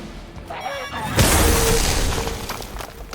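A deep booming in-game explosion from Marvel Midnight Suns erupts abruptly after a brief lead-in, loud and close, then rumbles and decays with a crackling tail.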